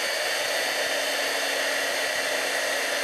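An embossing heat tool blows steadily while melting heat and stick powder with glitter, a loud continuous whooshing drone like a hair dryer, close and unbroken throughout with no talk.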